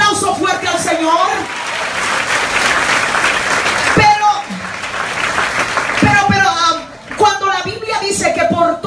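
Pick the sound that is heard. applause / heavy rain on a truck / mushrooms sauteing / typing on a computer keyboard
applause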